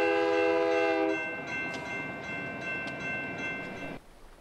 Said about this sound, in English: Look for the train.